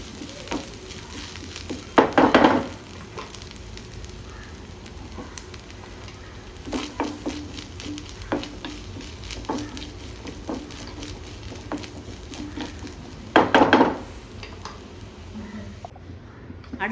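Nuts and grated coconut fry in a pan with a steady crackling sizzle, broken by two louder bursts of stirring and scraping, heard close up without talk.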